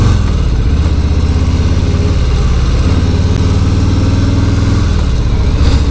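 A 2018 Harley-Davidson Street Bob FXBB Softail engine drones on the move, a dense low rumble with a fast pulsing beat that stays loud and steady throughout.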